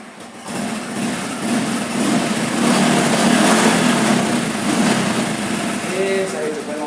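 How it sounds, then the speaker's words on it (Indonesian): A Honda Supra 125 motorcycle engine, carburetted older model, starts and runs at a steady idle, close and fairly loud with a constant mechanical hum throughout. "Saya hidupkan motornya."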